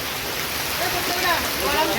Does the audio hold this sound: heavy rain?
yes